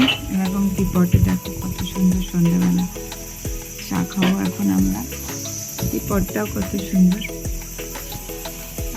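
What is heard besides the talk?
crickets chirping at dusk in tea garden jungle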